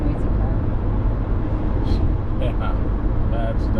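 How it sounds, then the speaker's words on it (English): Steady low rumble of a noisy car cabin on the move, driving from Green Bay, Wisconsin to Lisle, Illinois, dense road and engine noise filling the whole clip, with no speech. "Boy, you have a noisy car."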